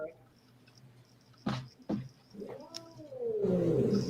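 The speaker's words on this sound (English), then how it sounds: "if you can hear the cat growling in the background" A cat growls and yowls in a low, drawn-out rising wail, with a couple of sharp thumps before it and a voice talking faintly underneath.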